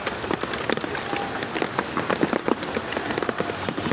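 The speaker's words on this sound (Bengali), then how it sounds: "দেখুন কি পরিমাণ বৃষ্টি" Heavy rain pours onto Dhaka city streets and alleys, a dense, continuous close patter of drops hitting hard surfaces with no voices over it.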